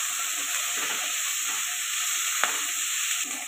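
Tomato and spinach frying in a pan with turmeric and salt, giving a steady close sizzle with soft stirring scrapes and a brief utensil tap; no talking.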